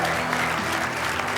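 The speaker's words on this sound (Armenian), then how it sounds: "Շատ լավ, ծափարենք մի հատ Անդոյին։" Studio audience applauding at a sports-themed show, a dense steady wash of clapping across the whole moment with a faint low hum beneath.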